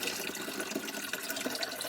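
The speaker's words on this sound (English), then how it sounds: "you can actually pour it with the lid already on" Water is poured into the tank of an ASAKUKI 4-litre ultrasonic humidifier with its lid on, making a steady, even splashing rush throughout, moderately quiet and heard without talk.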